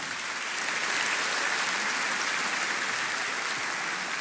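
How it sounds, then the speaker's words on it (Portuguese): A church congregation applauding, a dense and steady wash of clapping from a large crowd, even and unbroken throughout, heard from some distance with a hall-like spread. "Você pode aplaudir essa igreja linda?"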